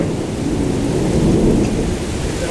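Thunderstorm with rain: a steady, dense wash of heavy rainfall with a low rumbling of thunder underneath, loud and continuous throughout with no voices.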